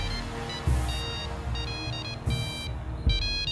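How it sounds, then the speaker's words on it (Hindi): A phone rings with a repeating electronic ringtone in a Hindi TV drama scene, several bursts over a steady low background with no talk. "लो, आचार्य जी का फोन है।"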